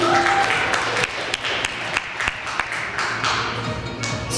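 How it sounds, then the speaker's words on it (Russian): An audience at a stage show breaks into loud, sustained applause, with dense clapping and a few sharper individual claps standing out as someone walks up onto the stage. "Поднимайтесь на сцену под бурные аплодисменты, давайте ему похлопаем."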